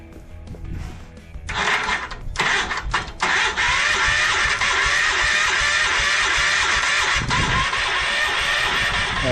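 A Kohler K-series small engine cranks on its starter outdoors in a driveway, with a few short whirring bursts and then a long, loud, unbroken grinding crank that does not catch.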